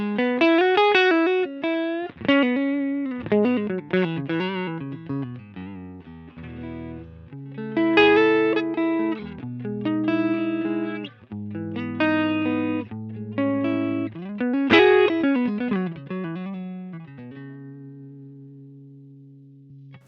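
Electric guitar played through a Strymon Iridium amp emulator pedal set to its Round amp model. It plays a loud, continuous lead line of picked single notes and chords that ends on a sustained, ringing chord.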